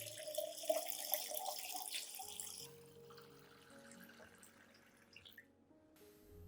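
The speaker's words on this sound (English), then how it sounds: "Add 1 liter of clean water at room temperature to dilute the solution." Clean room-temperature water runs from a tap or is poured into a container to dilute an orchid nutrient solution, a steady splashing stream that softens and thins partway through, recorded close with no voices.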